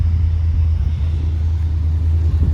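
Holden SSV Redline Ute's engine idling steadily nearby, a continuous low rumble with no revving and no talk over it.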